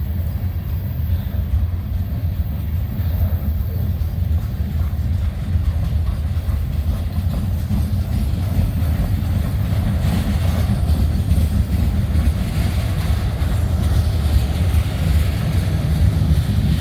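A freight train with a distributed power unit locomotive passes close by, a continuous heavy low rumble with faint rail clatter, loud and unbroken throughout.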